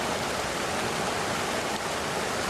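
Water tumbling down a three-step rapids cascade on a northeast peninsula slope in Ida-Harjumaa, Estonia, dropping about four metres over ten metres; a steady, dense, full-band rush throughout with no voices.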